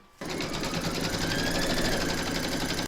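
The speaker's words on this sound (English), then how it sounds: "then you're going to stitch round number 1, and that's going to give you your placement outline for your batting" An embroidery machine runs steadily, stitching a placement outline for batting on an in-the-hoop stacked snowman project, its fast even whirr starting after a brief pause and holding close and loud throughout.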